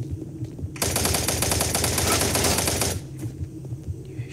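Rapid automatic gunfire in the VR shooter Doom 3 VR, a dense, loud burst of machine-gun fire lasting about two seconds amid low game rumble.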